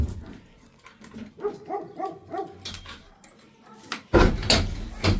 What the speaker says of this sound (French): on n'aime pas quand les chiens aboient